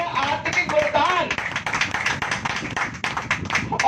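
A church congregation claps along during a sermon, with rapid, overlapping hand claps of a crowd filling the short stretch. A voice carries on underneath the clapping.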